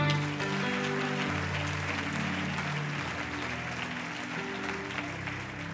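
A church congregation claps and cheers together in sustained, dense applause, loud and close, with a sung or held musical tone running underneath throughout.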